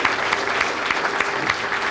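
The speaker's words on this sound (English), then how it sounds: "Let's get a round of applause for these guys as they show." Brief, lively applause from an audience honoring veterans, with individual claps distinct in a steady, fairly close patter.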